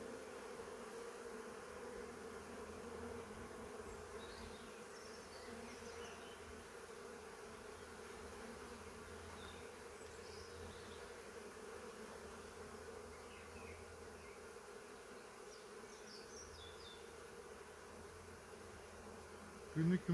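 Honeybees buzzing steadily around single-frame hive splits, a continuous close drone of many wings that hangs at an even level throughout.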